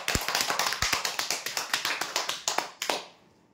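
Applause for a prize-draw winner at a weekly customer draw: a small group clapping in quick, fairly even bursts, moderately close, fading out after about three seconds with no talk over it.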